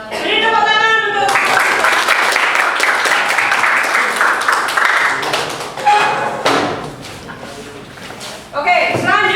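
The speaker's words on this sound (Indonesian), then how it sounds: "Beri tepuk tangan untuk" Classroom audience clapping for a presenting group, dense close applause that fades after several seconds into scattered claps, with voices speaking at the start and end.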